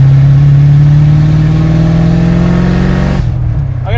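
A Fox Body Mustang GT with a valved aftermarket exhaust revs hard and close, its deep droning note climbing steadily for about three seconds before dropping off sharply.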